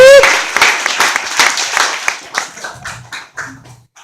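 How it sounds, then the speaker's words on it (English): An audience at a presentation applauding Todd and Diane, loud clapping from a crowd that starts dense and thins into scattered individual claps, with a voice calling out over it at the start and murmurs near the end. "So I'd like to give Todd and Diane a round of applause for doing this work."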